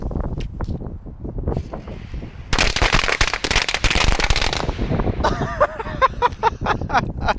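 A Venom pack of 100 firecrackers goes off in water, bursting into a rapid crackling barrage of sharp pops that starts abruptly, rages for about two seconds, then continues as scattered loud snaps outdoors.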